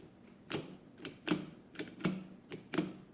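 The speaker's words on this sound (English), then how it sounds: "if you hold this keyboard down, actually I probably should have reinstalled this pointer so you could see it moving, but so you can hear it" A Swift adding machine's mechanism ratchets with its key held down, giving a steady series of sharp mechanical clacks, about six evenly spaced strikes, close and distinct with no talking.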